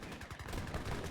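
Heavy Dutch cannons in Age of Empires III fire a dense volley into massed infantry during a competitive match, a dull continuous rumble of overlapping booms and crackling shots with no distinct gaps.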